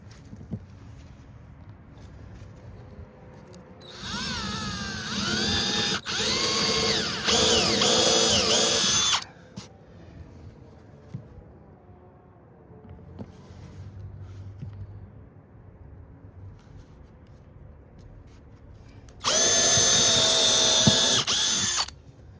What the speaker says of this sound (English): Where's my drill at?